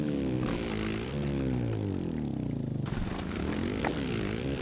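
A dirt bike engine in the MX vs ATV Legends game, ridden through a turn without the clutch, holds a steady buzzing drone whose pitch dips and climbs with the throttle, loud and continuous throughout.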